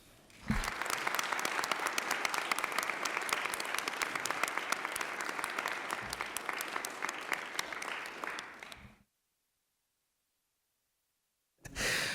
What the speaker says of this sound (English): if you could just help me give her a nice round of applause to help celebrate her birthday